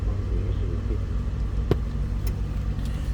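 A 1978 Chevrolet Chevette idles steadily at close range with a low, even rumble, broken by a brief sharp click partway through.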